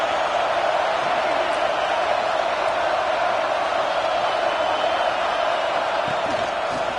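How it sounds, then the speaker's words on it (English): Stadium crowd noise in the College Football 26 video game forms a dense, steady roar, loud and unbroken throughout, with no distinct cheers or voices standing out. "listen to this crowd noise. This stadium is vibrating."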